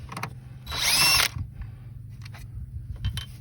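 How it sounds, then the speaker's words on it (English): A power drill whirs in one short burst lasting about half a second while removing door speaker screws in a 1994 Suburban, flanked by faint clicks and handling noises at close range. "I didn't show that I had a drill set up here."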